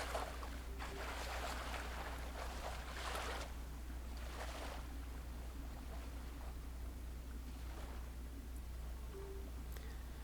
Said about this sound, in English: I can hear the sound of the water gushing around